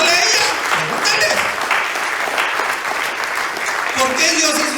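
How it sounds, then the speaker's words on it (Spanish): A church congregation breaks into sustained applause, a dense wash of clapping that carries on throughout, with voices calling out over it. "Que le dé un aplauso a Dios, hermanos."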